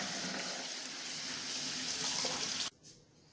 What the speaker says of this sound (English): I am going to rinse the cooked rice under water to get rid of some of the starch and to cool it down a little